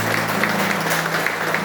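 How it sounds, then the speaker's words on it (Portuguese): Applause at a Christian church worship service, a steady wash of clapping from the congregation over a low sustained hum, moderately loud and without talk. "Você pode aplaudir o Senhor Jesus."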